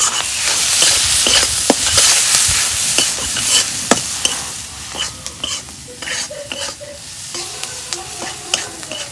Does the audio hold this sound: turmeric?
yes